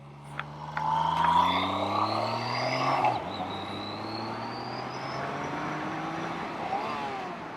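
A BMW K75RT motorcycle pulling through its gears, engine pitch rising in steady sweeps, dropping at each shift and climbing again, loud and close with wind noise mixed in.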